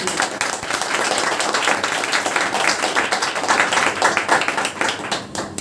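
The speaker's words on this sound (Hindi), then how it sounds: "सर के लिए जोरदार तालियों की" Enthusiastic audience applause for a speaker at a company management event, sustained loud clapping from many hands filling the whole stretch with a few voices underneath.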